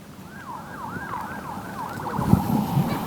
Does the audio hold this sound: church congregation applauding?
no